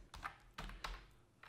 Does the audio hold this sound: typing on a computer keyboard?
yes